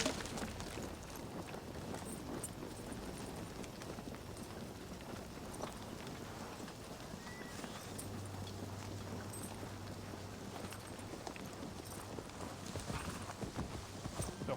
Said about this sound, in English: The horse trying to give away my position.